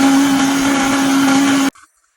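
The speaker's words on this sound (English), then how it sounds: "I'm gonna start blending this and then show you." Loud, steady whir of a blender running on vegan queso dip, a strong constant motor tone that cuts off abruptly, followed by a brief clatter and near silence.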